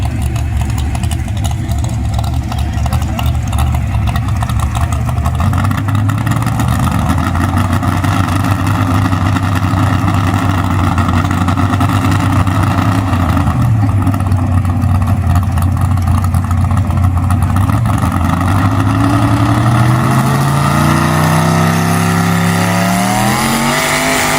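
Small-block 4x4 trucks of the 4,500-pound class at a county fair truck pull, a loud sustained engine roar with rising and falling revs, continuous and close, with some announcer talk.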